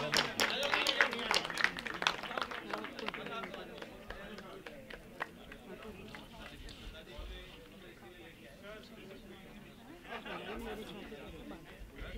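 Audience at a film grand premier breaks into applause for a guest's father, with dense clapping loudest at first and tapering off beneath crowd chatter and a voice speaking.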